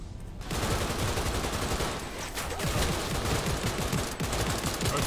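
Dense, rapid gunfire from a Cyberpunk 2077 firefight, loud and continuous with overlapping shots and bursts filling the scene, close up and without a break.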